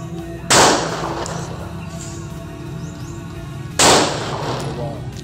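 Two loud, sharp gunshot blasts fired at an amulet test, a few seconds apart, each cracking out with a brief echo over quiet outdoor background with faint birdsong.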